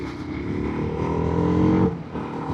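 A 2025 TVS RR310 motorcycle ridden in urban mode, engine droning steadily and rising in pitch as it accelerates, then dropping briefly before pulling again, close and loud with no voices.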